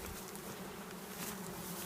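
Honeybees buzzing at a beehive, a dense, continuous, steady hum of many insects close by.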